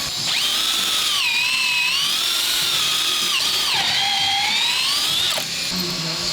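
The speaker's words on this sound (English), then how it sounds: "Now when I drill back through the other side, I've got a hole that the drill bit should go into" A power drill bores through old WWII German wood with a steady, close, high-pitched whine that dips slightly in pitch under load and runs continuously throughout.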